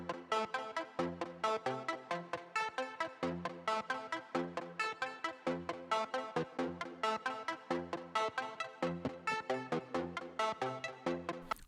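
An Arturia MiniFreak hardware synth repeats a dark pop melody sequence of steady, evenly spaced plucked notes that runs continuously and clearly, with no voices.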